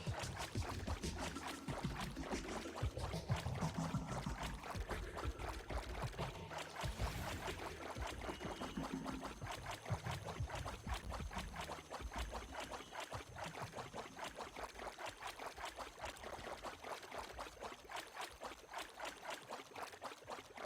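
A character walks across water in the Otherside online game, with quick, rhythmic splashing footsteps and a sloshing wash that continue steadily throughout.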